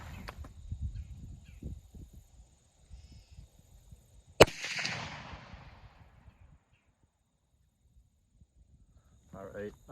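A single loud, sharp blast from a CVA Accura muzzleloader loaded with Blackhorn 209 powder and Barnes TEZ bullets, fired outdoors and trailing off into a rumbling decay, with handling noise and rustling before and after.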